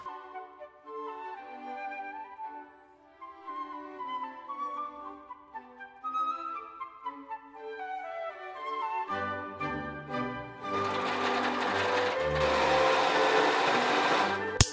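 A sewing machine stitching sleeves onto a thrifted blanket starts running partway through, a steady close mechanical whir after a stretch of melodic music, continuing loudly to the end.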